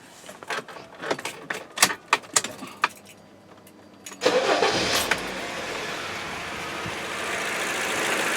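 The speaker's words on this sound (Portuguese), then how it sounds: "Vamos dar uma partidinha aqui, ó." A Honda Civic engine cranks and catches, settling into a steady idle. Rhythmic clicks and clatter from the engine bay come first, then the starter whirs and the engine fires with a loud burst before holding a sustained, even idle.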